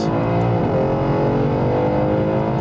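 A 1000 HP stage 3 tuned Mercedes E63 AMG S pulling hard under acceleration, a loud, dense, continuous engine roar with rising harmonic tones, close and unbroken.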